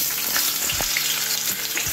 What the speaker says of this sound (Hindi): यहाँ पर हम आलू फ्राई कर लेंगे।